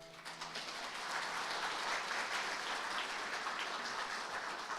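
An audience at an award ceremony applauds steadily, a dense wash of clapping that holds evenly for several seconds with no talk over it.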